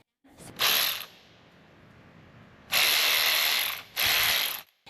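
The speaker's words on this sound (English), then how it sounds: "look at this, a battery-powered ratchet wrench" A battery-powered ratchet wrench runs in three bursts, one short, one long and one medium, each a loud, close, rapid mechanical ratcheting whir with brief quiet gaps between, and no one speaks.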